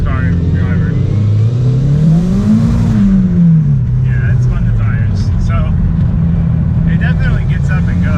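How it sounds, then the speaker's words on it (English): Turbocharged Mazda Miata drift car accelerating hard on a closed course, the engine note climbing, dipping at a shift and rising again, loud and close from inside the cabin, with brief speech near the end. "It definitely gets up and goes, like no problem. Like third gear, I'm getting full boost, a little above 3 grand."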